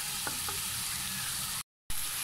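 Chicken mince sizzles in a hot pan and is stirred, with a steady close frying hiss, a few faint scraping touches, and a brief dead-silent gap near the end before the sizzle resumes.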